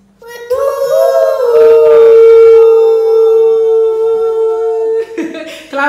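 A child imitates the hoot of a Corythosaurus dinosaur, a single long, loud, wavering tonal call held for about five seconds, with a short vocal flourish at the end.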